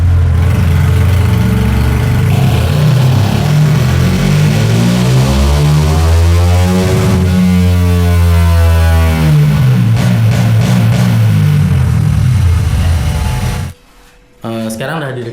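Fuel-injected motorcycle engine run on a dyno, loud and close, rising through the revs in a long sweeping pull, then dropping abruptly near the end before picking back up briefly.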